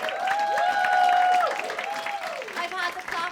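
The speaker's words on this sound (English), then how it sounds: "You may clap." A comedy club audience claps and cheers, with rising and falling whoops riding over a patter of hands that swells, then tapers into scattered claps.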